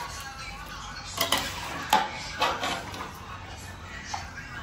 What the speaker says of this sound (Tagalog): Ngayon hahaluin natin siya.